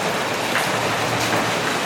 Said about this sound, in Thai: มาเจอฝนตกนะทุกคน